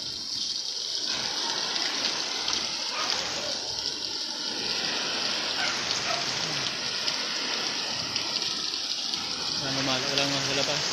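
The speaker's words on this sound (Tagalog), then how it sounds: "At ang ulan." Steady heavy typhoon rain from Typhoon Rolly in Batangas, Philippines, pours down in a dense, continuous hiss, loud and close, with faint voices briefly audible beneath it.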